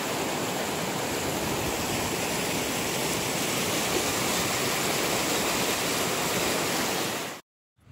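Two mountain streams meeting on a hike near the Saut du Laïre, one muddy from upstream gullying and one clear, a loud, dense, unbroken rush of water up close that cuts off abruptly at the end.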